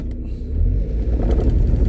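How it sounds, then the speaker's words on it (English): Car driving over big potholes on a road through Woodlands Cemetery in Philadelphia, low rumbling thuds and jolting bumps under engine noise, close and uneven. "Here comes the big potholes again."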